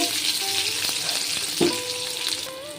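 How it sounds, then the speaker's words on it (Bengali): Onion fries in a little oil in a pan, giving a steady close sizzle throughout with a few stirring scrapes. "পেঁয়াজটা একটু লাল লাল করে ভাজা হয়ে গেছে"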